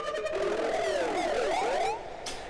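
A synth riser with no filter cutoff applied: gliding synth tones cross and swirl over a noisy bed, then drop away near the end, leaving a faint hiss and a short bright burst.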